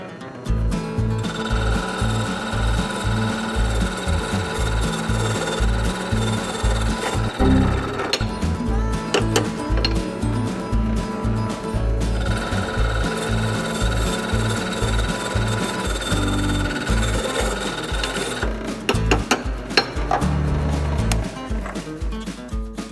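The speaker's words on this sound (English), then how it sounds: "Alright, on to the drill press." A drill press boring holes into a car pulley runs steadily and loudly, with a constant motor drone and grinding, rumbling cutting noise that shifts in texture as the bit works through the metal.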